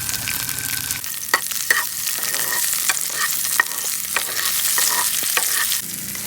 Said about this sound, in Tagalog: ilagay na yung mantika igisa lang yung bawang, yung sibuyas, pati yung kamatis